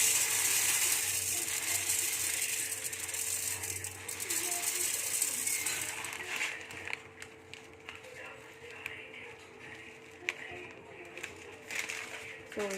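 Fenugreek seeds dry roasting in a pan give a light, continuous crackle and scattered sharp pops over a low background hiss, while a voice talks over it.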